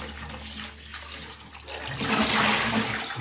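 Tap water runs over a cleaned cuttlefish at a kitchen sink while it is prepared for squid-ink risotto, a steady rushing stream that swells louder and fuller in the second half.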